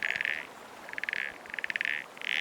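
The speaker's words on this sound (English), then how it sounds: "Western toads emerge from hibernation and gather at shallow ponds and lake edges, the males producing trilling calls to attract females." Western toads at a shallow pond or lake edge in Yellowstone give repeated trilling mating calls, several pulsed trills in a row with short gaps, fairly close and clear over a quiet outdoor background.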